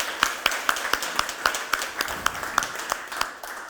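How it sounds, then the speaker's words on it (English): Sparse, steady clapping from a conference audience at a digital twins and cyberphysical infrastructure event, sharp individual claps fairly evenly spaced and moderately close, thin rather than a full roaring crowd. "Let's give him a big round of applause, please."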